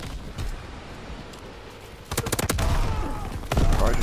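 Gunfire in a WW2 video game, a quiet shot or two and then dense, fast bursts of automatic fire that grow louder toward the end, with a low rumble beneath.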